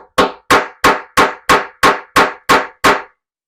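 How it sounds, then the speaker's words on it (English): Nine sharp, evenly spaced hammer blows strike a metal hole punch set on a cord keeper material, each crack loud and close with a brief decay and no talking. "And then come in with the hammer."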